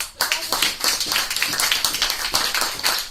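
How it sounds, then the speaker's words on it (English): A meeting room audience at a Toastbusters Moscow speaking club gives a dense, steady round of applause, many hands clapping close by for about three seconds without a break. "So once again, big round of applause to Olga Dubovitskaya,"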